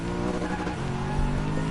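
Steady, loud engine drone of a Mercedes-Benz race car in GT Sport, holding a constant high-revving tone with a faint tire squeal.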